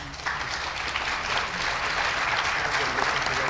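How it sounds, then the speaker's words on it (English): Audience applause for a panel of speakers at a business and tourism career week event, a steady dense clapping that rises quickly and holds loud throughout. "if everyone could give a round of applause for our panelists"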